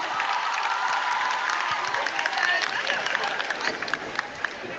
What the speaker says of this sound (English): Can you give a huge round of applause for all the teachers who did the hook step?